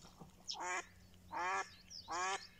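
A decoy duck quacks during a spring drake hunt, three loud raspy quack bursts, each lasting about a quarter second and evenly spaced, alone against faint outdoor background.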